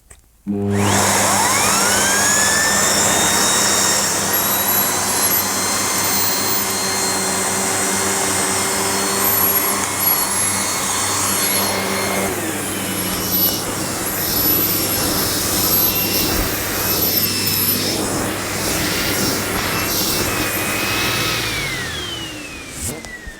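A Sebo K3 Vulcano vacuum cleaner fitted with a turbo head starts and runs close by, a loud steady whine and airflow roar that holds unchanged and then eases slightly in pitch partway through, with no voices.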